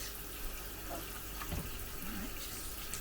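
Hot tap water runs steadily into a kitchen sink during handwashing after handling raw chicken, a continuous close splashing hiss with faint sloshing from the hands.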